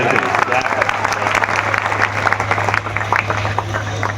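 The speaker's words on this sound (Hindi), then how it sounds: "जोरदार तालियां।" An audience at a poetry mushaira claps loudly and continuously, close dense applause with a steady low hum underneath and some voices mixed in.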